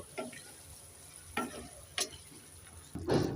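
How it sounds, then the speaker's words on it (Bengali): Ground poppy seed paste with turmeric is stirred in a frying pan: several soft scraping stirs and brief sizzles come close and fairly quiet, ending in a louder burst of frying at the end, with no talk. "দিয়ে দেব বেটে রাখা পোস্ত একটু নেড়ে চেড়ে দিয়ে দেব"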